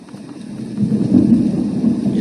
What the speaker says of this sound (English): Yes, and thunder.